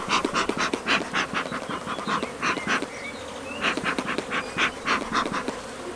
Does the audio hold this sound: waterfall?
no